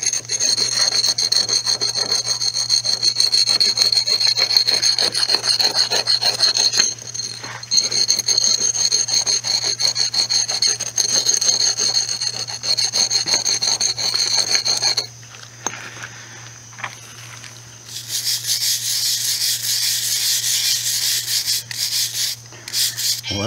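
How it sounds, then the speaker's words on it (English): Stiff brush scrubbing acid-washed brick, a long stretch of rapid rasping strokes close up, loud and steady with one brief lull partway through, and no talk over it. "Let me just get on there and scrub a little more."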